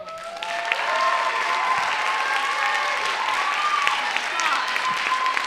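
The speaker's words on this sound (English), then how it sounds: "Let's give her another round of applause." Applause from the crowd at a spoken word poetry slam in a public library, full and sustained from start to finish with a few cheers and voices mixed in.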